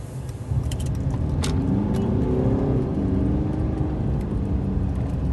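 A 2014 Mercedes C-Class W205 accelerating, its engine note rising and rumbling steadily for several seconds, heard up close from inside the car.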